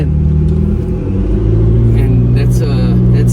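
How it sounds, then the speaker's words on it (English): A McLaren 650S sports car's engine rumbles and revs steadily at close range, a deep continuous drone that swells slightly through the clip while a voice talks over it. "you could just feel a bit of a power of the car"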